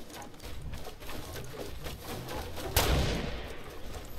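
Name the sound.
sniper rifle gunfire in the video game Fortnite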